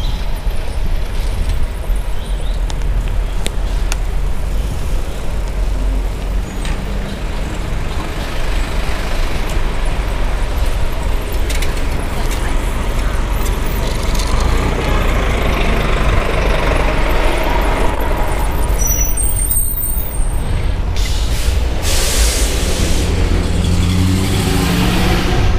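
An NYPD police car drives past on a city street, a steady broadband engine and tyre rumble with traffic noise throughout, swelling louder near the end as it passes close by, with no talking.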